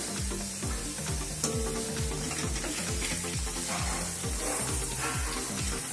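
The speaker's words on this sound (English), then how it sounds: "You need to first add curry leaves into the oil" Curry leaves sizzle and spatter in hot oil for a South Indian beef kebab dish, a steady dense crackle running throughout, with a repeating low rhythmic pulse underneath.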